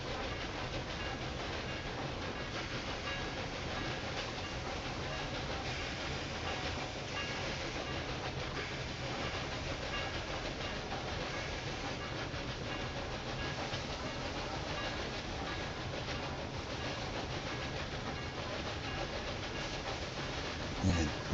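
Cargo trains roll through the railway game Railway Empire 2, a steady rumbling clatter with hissing wheel and track noise that holds evenly throughout at moderate level, with no clear talk.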